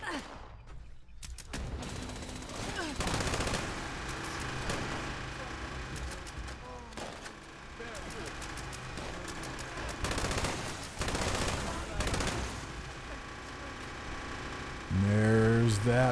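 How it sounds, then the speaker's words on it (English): An explosive LMG in Fallout 76 fires in long, dense bursts of heavy rattling gunfire with booming impacts. A short pause breaks the shooting, and a voice briefly talks over the racket near the end. "There's that machine gun grind."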